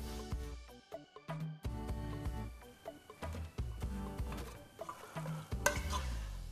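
Jollof rice stirred in a pot on a gas stove, a spoon scraping and knocking against the pot in uneven close strokes over a faint sizzle, with no talk.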